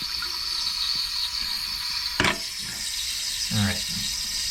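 Water runs steadily into a toilet tank through the fill valve, a continuous hissing flow with a sharp clunk partway through and a brief gurgle near the end.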